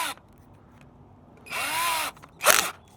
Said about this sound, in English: Make sure it's on drill, and then we're going to drill the holes.